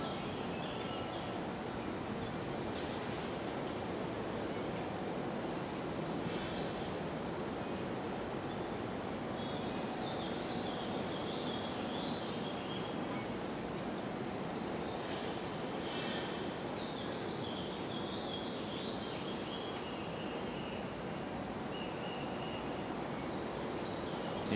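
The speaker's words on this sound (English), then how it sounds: "Here's our FedEx 767." FedEx Boeing 767 jet passing at Raleigh-Durham airport on a stormy, windy day: a broad, steady engine roar that holds loud for the whole stretch with rumbling wind underneath and a faint bird chirp now and then.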